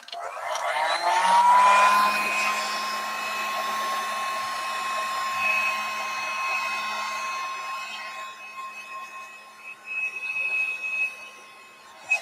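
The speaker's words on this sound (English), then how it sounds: "Okay, heat gun." A heat gun blows air to dry watercolor paint, a loud steady whirring whine with a tonal hum that holds throughout before wavering near the end, with a brief voice at one point.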